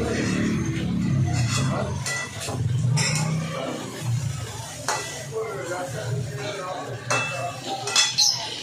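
Chicken cooking in a pan for a home birthday meal, with steady clatter of utensils and pots over a low frying hiss, and voices talking in the kitchen throughout.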